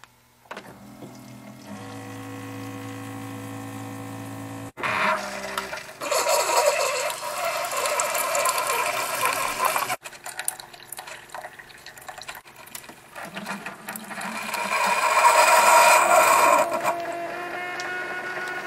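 Keurig brewer brewing a Martinson coffee pod on its 8-ounce setting, a steady pump hum with tonal whine, then gurgling liquid pouring and hissing that swells and sputters before stopping.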